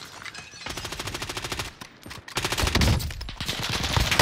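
Rapid automatic gunfire in the Warzone video game rattles in loud, dense bursts, with a short pause in the middle before the shooting resumes and grows heavier.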